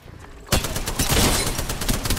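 Rapid gunfire bursts loudly in an Apex Legends match after a quiet moment, a dense rattling fusillade that carries on to the end.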